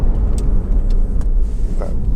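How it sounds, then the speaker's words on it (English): Honda CR-V 2.2 i-DTEC Black Edition 4WD diesel braking hard on the road, heard from inside as a loud steady rumble of tyres and road noise with a few brief clicks and knocks, no voices. "I'm just going to give the brakes a good shove and hold on to my things."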